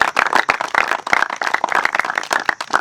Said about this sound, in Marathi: खरंच त्यांच्यासाठी जोरदार टाळ्या झाल्या पाहिजे दोघांसाठी